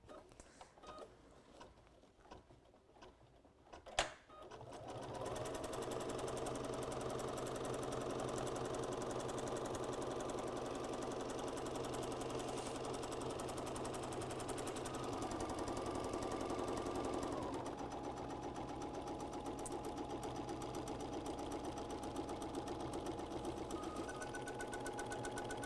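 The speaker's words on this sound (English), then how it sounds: "we're going to stitch all the way around this project" A sewing machine stitches all the way around a crossbody bag project, starting after a few quiet seconds and then running in a steady, continuous mechanical whir with a slight change in tone near the end.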